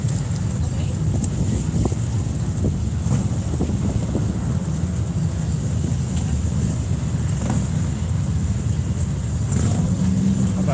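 A Harley-Davidson Road Glide motorcycle at the Sturgis Rally produces a loud, continuous low engine rumble mixed with wind buffeting, and voices are faintly audible underneath.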